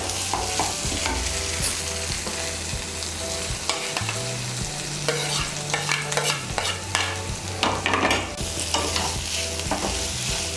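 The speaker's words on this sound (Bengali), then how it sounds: "মশলার সঙ্গে ভালো করে মিশিয়ে নেব চিকেনের টুকরোগুলোকে।" Chicken pieces are mixed into a well-fried masala for dhaba-style chicken bharta, with a strong sizzle broken by repeated scraping and knocking of a spoon against the pan, close and loud, with a low hum underneath.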